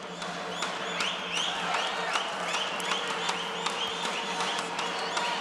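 A boxing crowd at the 2013 World Boxing Championships in Almaty claps and cheers after good shots in the ring. Sharp individual claps ring out over a steady arena murmur, fairly distant and sustained throughout.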